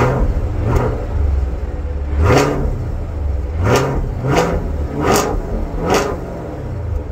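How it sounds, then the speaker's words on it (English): A 2024 Chevrolet Camaro LT1 V8 revving while driving, its deep engine note climbing and falling through several loud surges in a rhythmic pattern, heard from inside the car with no talking. "Oh, I love the sound of that V8."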